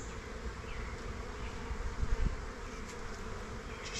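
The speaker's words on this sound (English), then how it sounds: "Could give them some bees from another hive, but the adage is don't weaken a strong hive" Honey bees buzzing in an open 8-frame hive, a steady close hum of many wings with a brief louder swell midway, no voices.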